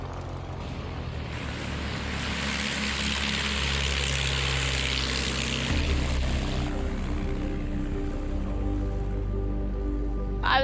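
A propeller plane taxis past a parked yellow Cessna support plane and then takes off, its steady engine drone rising and holding loud and close throughout, with no voices.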